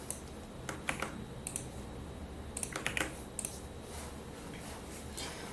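Keystrokes on a computer keyboard as a password is entered, irregular clusters of light clicks with short pauses between bursts, close and fairly quiet against a soft room background with no talking.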